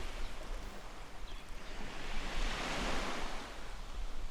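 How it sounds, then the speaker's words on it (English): Ocean waves wash in a soft continuous roar with wind noise, a broad faint hiss that swells gently midway and carries on steadily, with no voices. "As you hear the waves, the wind"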